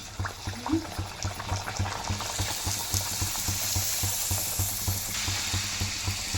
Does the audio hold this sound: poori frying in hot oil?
yes